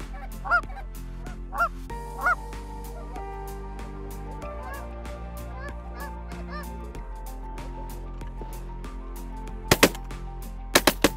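Wintering geese honk on the Platte River, a few separate calls early on, with loud sharp bangs near the end that could be shotgun fire during a goose hunt.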